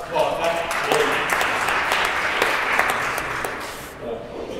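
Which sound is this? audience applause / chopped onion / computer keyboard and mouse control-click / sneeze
audience applause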